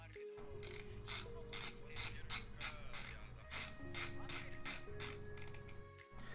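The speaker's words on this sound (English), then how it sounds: "I don't know how annoying that ratcheting sound is for this screwdriver" A ratcheting screwdriver clicks in rapid, even bursts while driving screws into a keyboard case and PCB during a build, sounding close and crisp with brief pauses between runs.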